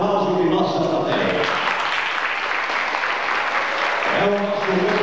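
A studio audience applauds at a 1997 Santa Bárbara music program, a steady dense clapping throughout while a presenter speaks over it.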